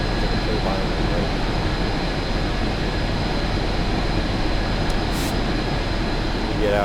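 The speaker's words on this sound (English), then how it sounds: "it sounds like a jet engine, right? Like a turbine, right?" A simulated Union Pacific 8,500HP gas turbine locomotive in Train Simulator Classic gives off a loud, steady jet-like turbine roar that holds constant throughout, with a faint high whine above the dense rumble.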